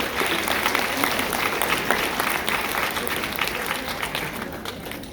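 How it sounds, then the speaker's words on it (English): Loud, sustained applause from a high school audience, dense clapping holding steady at full volume with a faint murmur of the crowd underneath. "Give them a right round of applause."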